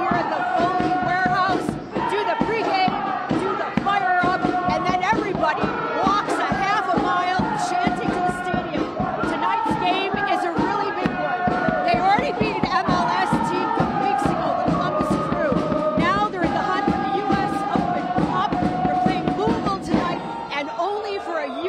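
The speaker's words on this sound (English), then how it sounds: "are you going to see this kind of crowd on a Tuesday night?" Detroit City FC soccer fans pack the stands before a Tuesday night U.S. Open Cup match, a dense roaring crowd chanting and cheering without pause, loud and close, with rhythmic shouts layered over steady noise.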